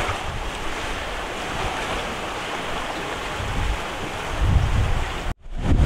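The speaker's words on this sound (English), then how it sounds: "we got a big squall rolling in on us" A squall strikes a sailboat at sea off the Pacific coast of Mexico. Wind roars loudly and without a break over the crash of rough waves, building toward the end, with no voices.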